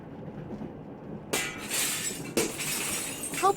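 Glass window shattering in the adventure game Secret Files: Tunguska, with two sharp crashes followed by scattered tinkling shards, loud and close with no voices.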